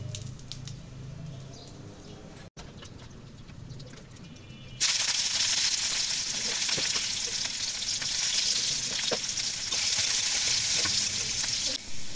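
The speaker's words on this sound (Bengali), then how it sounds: "এখন পেঁয়াজ আর একটা এলাচি একসঙ্গে ভেজে নেব" Onion and a cardamom pod hit hot oil in a wok, and a loud, steady frying sizzle bursts in partway through after a quiet stretch, then crackles on without a break.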